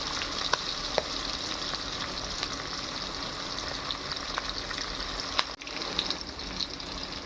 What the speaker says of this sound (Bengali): এগুলোকে না একটু হালকা করে ভেজে নেব, একদম হালকা করে ভেজে তুলে রাখবো।